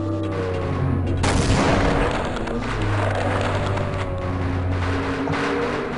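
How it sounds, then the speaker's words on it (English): In the Half-Life video game a grenade goes off with a loud, booming blast over continuous in-game ambience. Rumbling noise and scattered gunfire trail after the explosion. "Grenade."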